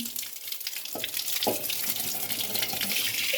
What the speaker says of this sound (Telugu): ఇలా షింక్లో పెట్టి 1 day మొత్తం నానబెట్టేయాలి. వాటర్తో నింపేయాలి.